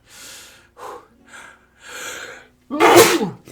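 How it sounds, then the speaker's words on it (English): In Animal Crossing: New Horizons, a cartoon penguin character gives a series of short sniffing breaths and snorts that builds up, ending in one loud, explosive sneeze. "And he sneezes really badly."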